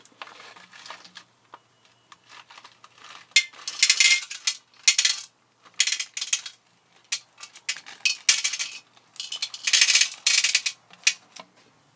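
Nuts and bolts rattle and clatter inside a 1962 Johnson 3 HP outboard fuel tank being shaken, in uneven bursts of metallic jangling with short pauses between.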